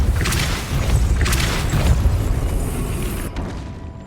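Depulso force spell from Hogwarts Legacy firing repeatedly, two or three loud booming bursts with bright whooshing edges over a rumbling low bed, cutting off abruptly near the end.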